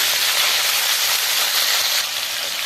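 A piece of paneer frying over full flame in a pan, giving a steady, loud, close hiss of sizzling oil that runs unbroken and eases slightly near the end.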